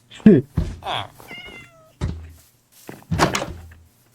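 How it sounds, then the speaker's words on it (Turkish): A Minecraft cat meows several times in short, distinct calls, separated by soft thumps, with brief gaps of quiet between them. "Lan kedi sesi geliyor Hüseyin."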